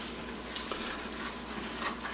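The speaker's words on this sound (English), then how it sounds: "We'll just kind of stir that around a little bit in that oil" Garlic and basil are stirred into hot olive oil for an osso buco sauce, giving a soft, steady sizzle with faint scraping of the stir throughout, quiet and close.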